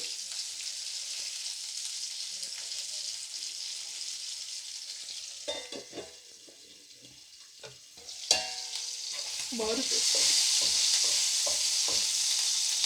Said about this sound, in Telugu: మళ్ళీ ఒకసారి ఫ్రై చేసుకొని మళ్ళీ ఒకసారి మూత పెట్టుకొని ఇలా ఉడికించుకుంటూ ఉండాలి